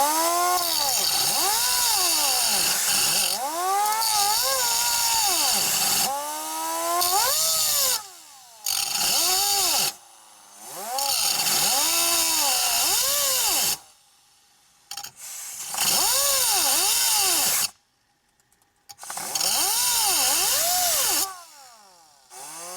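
A power tool cuts into the ignition lock of a 2008–2012 Ford Escape with a no-crank, no-start fault, whining loudly and close in repeated bursts that rise and fall in pitch, separated by short silent pauses.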